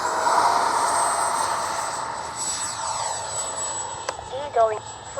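A Freewing 80mm F-22 Raptor RC jet roars steadily on takeoff with a high turbine whine, loud and sustained throughout, its pitch shifting slightly near the end.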